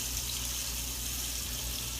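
Gravy being poured into a crock pot alongside a chuck roast, heard as a steady, fairly loud continuous liquid stream with no pauses.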